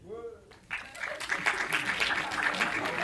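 An audience at a comedy show breaks into applause, a swelling wash of clapping that builds after a brief spoken moment and carries on steadily.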